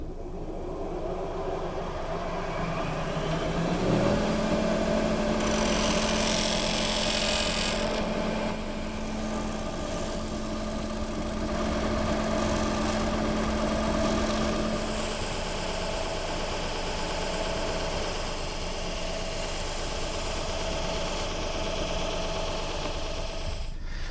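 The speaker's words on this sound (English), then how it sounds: "I'm going to return to my sanding center" A sanding machine whirs steadily nearby, a constant motor hum with a louder burst of grinding partway through, then settles back to a drone.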